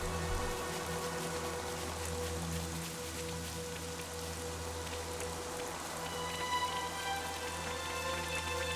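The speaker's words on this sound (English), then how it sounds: "Ugh, I hate the rain." Steady rain pattering on a surface in Xenoblade Chronicles 3, continuous and fairly even, with a low ambient hum beneath and no voices.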